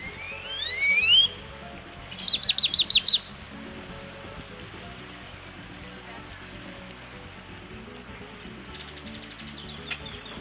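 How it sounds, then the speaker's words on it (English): Birds chirp in quick, bright bursts in Costa Rica, first a rising trill and then a rapid series of short tweets, over a steady rushing wind. "And now we'll listen to the wind and to the bird calls."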